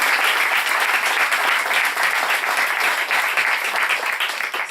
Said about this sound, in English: And so I think that Javier really does deserve an applause.